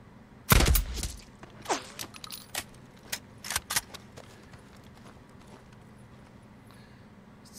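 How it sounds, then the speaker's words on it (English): In the Days Gone video game, a sniper rifle fires a sharp, loud shot that rings out and fades, followed by scattered fainter cracks, clatter and light metallic rattles. "we'll take out that sniper with my sniper"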